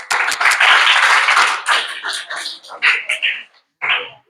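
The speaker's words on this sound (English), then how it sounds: "सब बच्चे clapping करेंगे।" Schoolchildren in a spoken-English class clap together in a dense, close burst of applause that thins into scattered, uneven claps before stopping.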